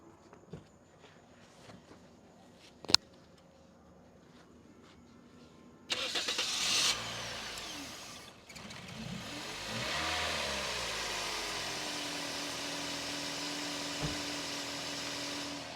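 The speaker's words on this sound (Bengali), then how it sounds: "আপনারা এখন ইঞ্জিনের সাউন্ডটা শুনতে পারছেন" A 2003 Toyota X Corolla, bonnet in original condition, is started after a few faint clicks and footsteps; the engine catches with a loud burst, settles into a steady close idle, then rises slightly and holds.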